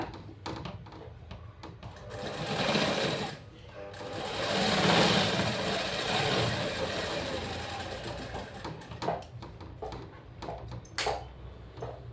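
A sewing machine stitches a blouse in steady whirring runs, pausing and restarting in short bursts, with a person talking between the runs.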